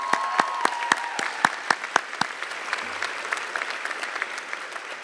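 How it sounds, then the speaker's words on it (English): Graduation ceremony audience clapping, with a few sharp, distinct claps close by over a broad steady applause from the crowd that gradually softens. "How about a round of applause for the dads?"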